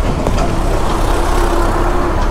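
A tractor engine rumbles steadily and loudly on a rough mountain road near Bhojpur, Nepal. The low drone stays close and continuous throughout, with no talk over it.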